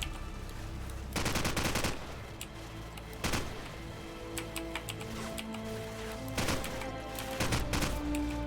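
AK rifle gunfire in Call of Duty 4, with several loud rapid bursts separated by short pauses and mixed with ticking game sounds and ambient battle noise.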